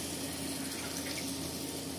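Water pours steadily from a tumbler into a pot of varagu millet rice for a biriyani, a continuous soft splashing that stays at one level.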